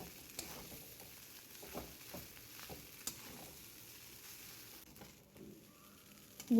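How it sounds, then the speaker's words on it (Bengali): Vermicelli is stir-fried with vegetables and egg over full heat. A soft, continuous sizzle runs throughout, broken by light scraping stirs of the utensil against the pan, and no one speaks. "ভালো করে এখন ভাজা ভাজা হচ্ছে।"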